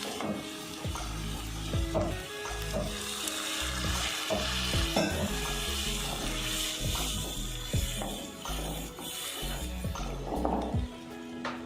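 Continuous loud sizzling of masala in a pan as water is added to simmer for masala poori, with frequent scraping and tapping as it is stirred, close up.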